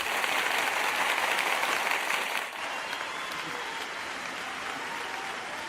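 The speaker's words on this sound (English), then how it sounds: "I need the applause" Applause from a studio audience, a steady wash of clapping that drops to a softer level halfway through and carries on to the end, with no voices over it.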